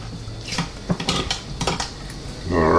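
A knife carves a whole rotisserie chicken breast on a hard surface. Soft cutting and scraping comes with a few light clinks of metal on plate, close and at a moderate level, with no talk.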